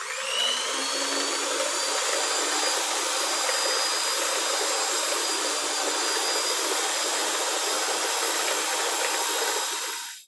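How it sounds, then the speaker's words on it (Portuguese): An electric mixer runs continuously at steady speed whipping homemade chantilly cream, a close, even whirring drone that cuts off abruptly at the end. "Quando você começar a bater o chantilly, coloca na velocidade mínima"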